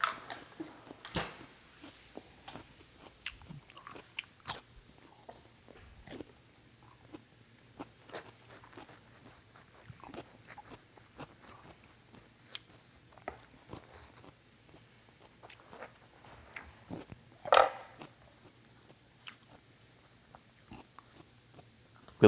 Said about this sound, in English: I'm just gonna snack on this.